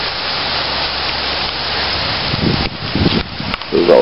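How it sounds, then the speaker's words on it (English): Sleet falls steadily outdoors on Christmas Day, a continuous hiss of icy pellets with wind noise buffeting the microphone, growing rougher and more uneven toward the end. "Christmas Day is starting to sleet quite a bit."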